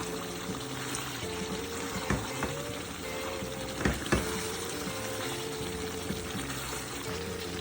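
Chicken curry fries in oil in a pan, a steady dense sizzle with a few louder pops and stirring clanks, close up and continuous.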